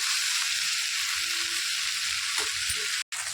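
Chopped okra frying and being stirred in peanut oil over a gas flame, a loud continuous close-up sizzle with faint scraping, cutting off abruptly for a moment just before the end.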